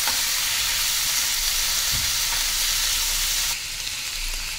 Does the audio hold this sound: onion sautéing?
yes